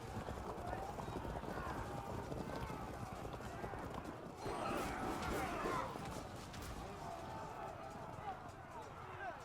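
Dense thundering hooves of many horses galloping in the medieval strategy video game Field of Glory II: Medieval, with a rumbling crash in the middle, a loud continuous battle din.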